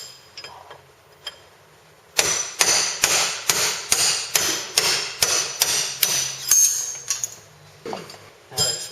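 Sharp metallic hammer strikes drive a roll pin out of the front prop shaft on a Polaris RZR, about a dozen evenly spaced ringing blows, close and clear after a few light taps.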